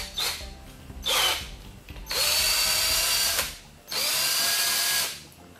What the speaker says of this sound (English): put that in your drill motor.